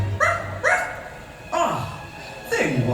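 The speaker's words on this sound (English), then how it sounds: "Where is that dog?" A dog barks in a Halloween fireworks show soundtrack, four sharp barks spaced about a second apart over a low background rumble, loud and close.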